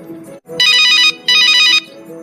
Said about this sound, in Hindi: अरे इस समय किसका फोन आ गया?